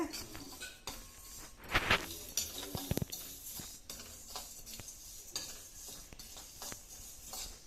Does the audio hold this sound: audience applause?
no